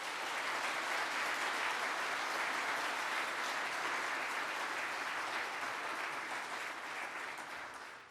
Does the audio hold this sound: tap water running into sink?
no